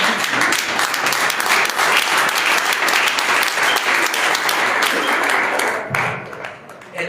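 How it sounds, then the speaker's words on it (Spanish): A church congregation claps during a pastor's sermon, a loud, dense round of applause that holds steady and then thins out near the end. "El otro aplauso así."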